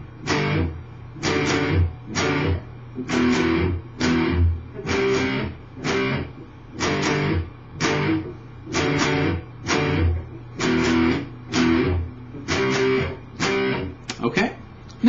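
Electric guitar chugs a repeated power-chord rhythm from a song, short punchy strummed bursts in a steady even pattern, played alone at moderate volume.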